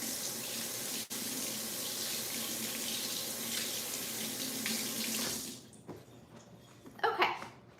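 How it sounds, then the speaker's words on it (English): A kitchen tap runs steadily as hands are washed beneath it, a constant close hiss of water that cuts off near the end, followed by a few wet rubbing and splashing sounds. "let me wash my hands real quick."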